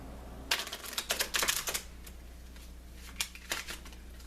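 Close, quiet riffling of oracle cards being shuffled in a few short bursts, with pauses in between.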